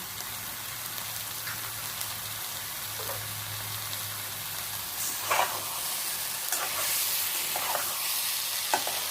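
Ghee sizzles steadily in a pan with jackfruit curry, a dense crackling hiss holding throughout with occasional sharper spatters and scrapes, close and fairly loud, no voices.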